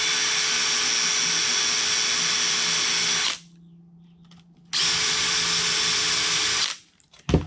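Hand drill runs two long bursts through an aluminum spar of an RV-4 aircraft, a steady high-pitched whine split by a short pause, then a brief rattle as it stops.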